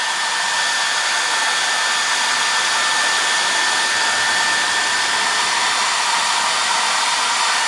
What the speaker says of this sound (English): So I just use a hair dryer.